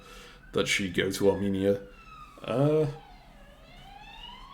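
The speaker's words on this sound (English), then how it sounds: "I apologize for the sirens in the background in these videos" Emergency vehicle sirens on a main road outside a home wail in a falling and rising tone in the background while someone talks over them.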